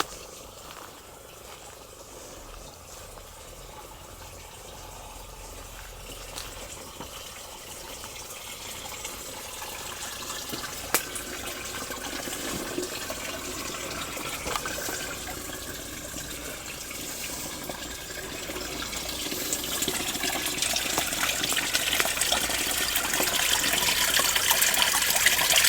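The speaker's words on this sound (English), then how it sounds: "that's the little stream bed. And there it flows." A small stream flows into a growing pool outdoors, a continuous soft trickling wash that builds gradually louder toward the end, with no voices.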